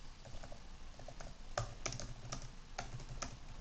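Rapid typing on a computer keyboard, a close, quiet patter of key clicks with a few louder strikes in an uneven rhythm, with no talk over it.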